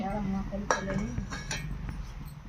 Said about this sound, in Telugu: ఇప్పుడు మూత తీసుకొని